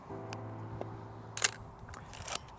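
The advance lever of a film camera is wound: a few quick, dry mechanical clicks and a short ratcheting crunch, close and quiet over a faint steady hum.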